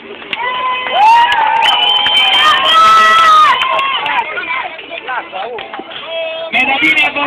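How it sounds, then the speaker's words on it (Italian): A crowd at a tournament final in San Marcellino cheers and shouts loudly, with excited voices, children among them, rising and falling throughout and only scattered clapping. "oggi c'è un applauso unanime del pubblico"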